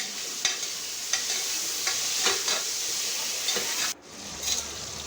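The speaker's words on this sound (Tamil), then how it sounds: "தக்காளி ரெண்டு பச்சை மிளகா அதையும் சேர்ந்து அது உள்ளே போட்டு அந்த எண்ணெய் இருக்கிற எண்ணெயிலே தான் வதக்க போகிறோம்" Tomatoes and green chillies sautéing in oil for a duck and chicken curry, a steady sizzle with a few sharp stirring scrapes, then a brief drop before the frying resumes.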